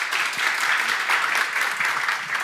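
Audience applause closing a Korean AI conference panel discussion for small businesses in Ulsan, a dense sustained crackle of many hands clapping steadily for the whole stretch.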